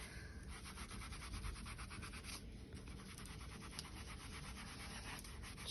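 A cloth is wiped and rubbed over a leather horse bridle to clear off grease, making a continuous close scratchy rubbing with quick repeated strokes and no talk.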